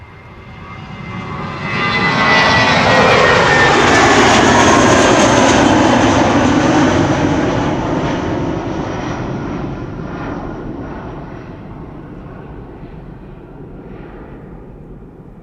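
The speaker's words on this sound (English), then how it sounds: "This is BA Flight 431 to London Heathrow. And this is an A320." An Airbus A320 jet departs Amsterdam Schiphol Airport, its engine roar swelling loud and broadband as it passes close, then slowly fading into a distant rumble, with no talk over it.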